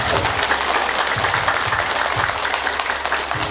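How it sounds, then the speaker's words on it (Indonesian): Applause from an audience at an outdoor yoga session in a yoga park at a resort in Ubud, Bali: steady, dense clapping that fills the whole stretch, fairly loud and close, with no talking over it. "Tepuk tangan bagi yoga."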